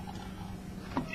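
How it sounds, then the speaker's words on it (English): A cat gives a short meow or two, quiet and fairly close, in a workshop while a ceiling fan is being taken apart for copper, with faint background hum. "Come on, cat."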